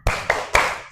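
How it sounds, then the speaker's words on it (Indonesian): Schoolchildren in a first-grade class perform a rhythmic spirit clap: three sharp, loud group claps in quick succession, close and in unison. "Tepuk semangat."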